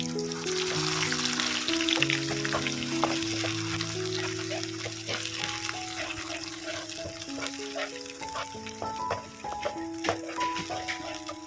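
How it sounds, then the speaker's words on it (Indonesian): Blended spice paste stir-fried in hot oil for home cooking, a steady dense sizzle running throughout with scattered crackles and stirring scrapes, close and fairly loud, with soft background music and no talking. "setelah minyaknya panas, kita masukkan aja bumbu yang sudah kita blender tadi ya. Kemudian kita tumis bumbunya ini sampai benar-benar matang."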